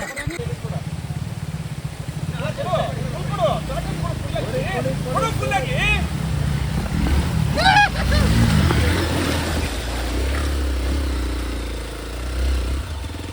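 A motorbike engine rumbles steadily as the bike crosses a flooded stretch of road, with splashing water and loud, excited voices talking over it throughout.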